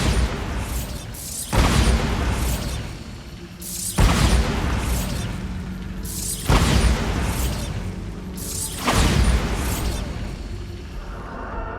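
Repeated Bombarda spell blasts in Hogwarts Legacy, four heavy booming explosions at roughly two-second intervals, each a sharp loud burst with a rumbling tail, with no voices.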